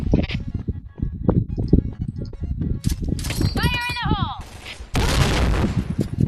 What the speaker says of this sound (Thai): มันยิงกันไวจับไม่ทัน